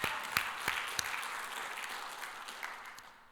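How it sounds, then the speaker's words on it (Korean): Church congregation applauding to give glory to God after a sermon, a moderate broadband patter of many hands that stays steady and gradually thins across a few seconds, with scattered sharper claps. "하나님께 영광의 박수 올립니다"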